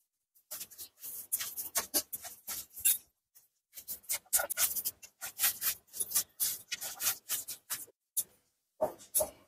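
A hand kneads an egg into a batter of lentil flour and rice flour, giving close, rhythmic squishing and rubbing bursts broken by short pauses.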